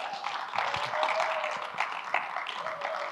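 A church congregation claps for the pastor's wife in a dense, steady patter of hand claps that holds for several seconds, with faint voices mixed into the applause.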